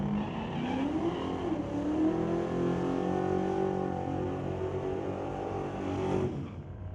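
A 1964 Plymouth with a 440 cubic inch Dodge engine roaring down a drag strip at Mission Raceway Park, a loud sustained engine note rising and holding as it pulls away, then cutting off abruptly.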